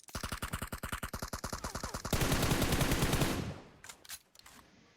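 Automatic gunfire in the PUBG Mobile video game on the Miramar map: a fast, even burst of close shots for about two seconds, then a dense roaring barrage that fades into a few scattered cracks.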